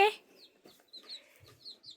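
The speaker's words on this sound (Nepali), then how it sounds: "कुखुरो चाहिँ यहाँ छ है," A hen clucks softly while walking with her four chicks around a rural Panchthar farmyard, giving short, close, uneven clucks and faint peeps amid quiet surroundings.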